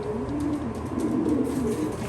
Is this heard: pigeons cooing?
yes